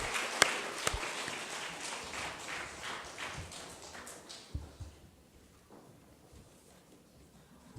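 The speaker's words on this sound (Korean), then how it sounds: "우리 한번 다시 한번 하나님 앞에 감사와 영광의 박수를 돌려드리겠습니다." A church congregation claps in thanks to God during a Sunday worship service, a fairly faint spread of applause that thins out and fades to near quiet over the last few seconds.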